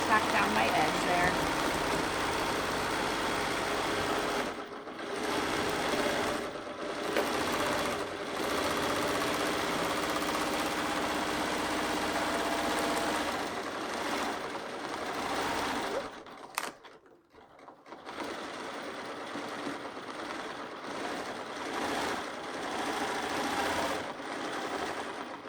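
A home sewing machine running during free-motion quilting, with a steady mechanical whir and rapid needle chatter that pauses briefly several times, close and loud, and talk can be heard faintly underneath.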